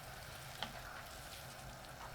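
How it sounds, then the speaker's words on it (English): Turkey simmers in water and light soy sauce in a pan, a soft continuous bubbling sizzle with one faint clink of stirring. "Give it a stir."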